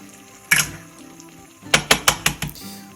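An egg tapped on a flat surface and cracked into a pan for scrambled eggs, heard close: one sharp knock, a pause, then a quick run of five crisp taps.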